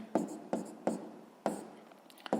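Handwriting of fractions during a sixth-grade maths lesson, several short distinct strokes of pen or chalk in an uneven rhythm, close and clear, separated by quiet gaps.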